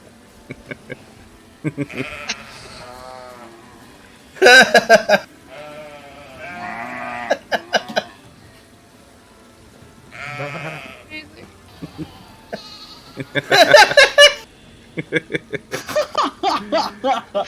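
A sheep bleat sound effect plays repeatedly during a game match to mark a kill, with several wavering baas mixed with lively speech and laughter from players.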